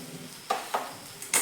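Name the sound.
stirring hadga flower vegetable cooking in a pan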